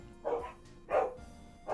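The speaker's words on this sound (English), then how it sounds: "Why are they barking so much?" Several dogs bark in short bursts, three loud yaps roughly evenly spaced, with faint background noise between them.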